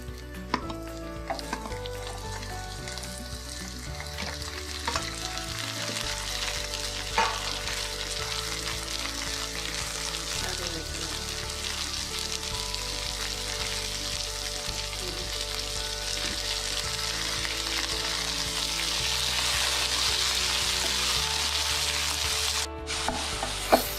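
Chopped tomatoes fry and sizzle steadily in a hot pan for a Kerala-style egg curry, with occasional scrapes and stirring clatter. The sizzle grows slightly louder toward the end, with no voices.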